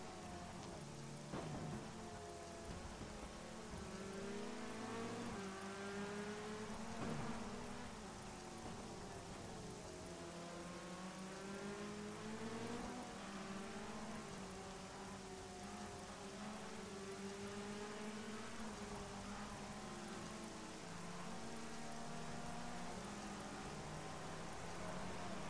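In the rFactor2 racing game, rain hisses steadily over a Clio Cup race car on track, the quiet drumming wash running continuously beneath the car's engine tones.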